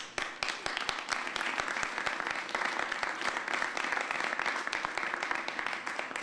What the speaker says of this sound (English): The applause always goes up when Robert comes into the room, which is a good thing.